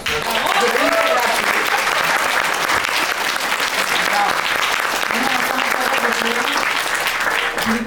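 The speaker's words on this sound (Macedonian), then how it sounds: "многу стварно еден голем аплауз за" Steady, loud, dense applause from the audience at a book launch event fills the whole stretch without a break, with faint voices mixed in.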